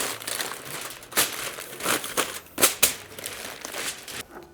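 Aluminum foil crinkles and crackles as it is folded and sealed around a rack of barbecue-sauced ribs, in irregular close bursts of crumpling with short pauses between.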